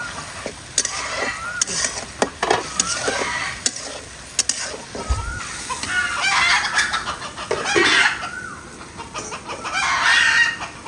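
Hens cluck and a rooster calls now and then amid clattering and stirring sounds nearby, with the bird calls fairly close and intermittent.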